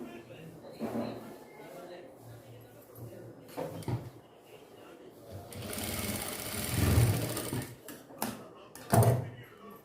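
A sewing machine stitches a small doll dress in bursts, with a longer loud run midway and short rises near the end, mixed with handling noises and speech.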